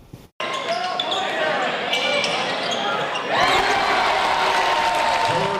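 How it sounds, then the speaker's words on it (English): A crowd at a high school boys basketball event applauds and cheers its first-year head coach, a loud, continuous wash of clapping that swells midway while a voice carries over it. "a huge round of applause to first-year head coach Craig Irwin, who guided this team to the big"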